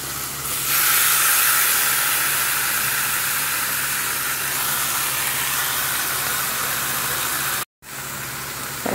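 Chicken pieces frying in a paste of onion, garlic, ginger, tomato and turmeric give a steady, loud broadband sizzle and hiss that runs continuously, cutting out briefly near the end before resuming.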